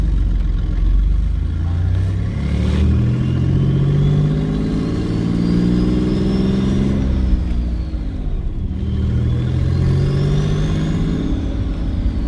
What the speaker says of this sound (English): under load, this thing is much louder